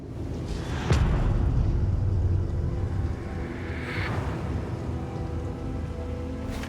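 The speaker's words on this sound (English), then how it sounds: "because it's raining" Rain falling in a wooded area in the video game DD2 Kingdoms, a steady hiss of downpour with low rumbling underneath and a sharp crack near the start, continuous and fairly loud.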